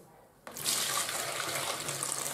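Brine poured off from a jar of caper berries, starting abruptly after a brief quiet moment and then running as a steady, close splashing stream of liquid.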